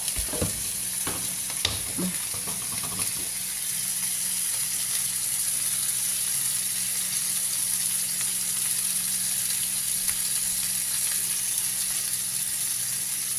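Broccoli and mushrooms sizzle steadily in a hot pan as soy sauce goes in, a loud continuous frying hiss with a few stirring knocks near the start.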